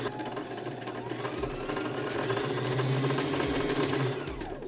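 Sewing machine running steadily while winding a bobbin, a close, continuous mechanical whir with a faint rhythmic knock that holds from start to finish.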